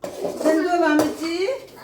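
Chicken curry being stirred in a pot, with a spoon clinking and scraping against the metal in a short, close burst while a voice speaks over it.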